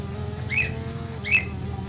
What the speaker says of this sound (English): Sorry for the bird again.